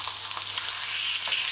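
Ham fries in a small pot with a steady, close hiss of sizzling fat and occasional faint pops, continuous and alone without any talk.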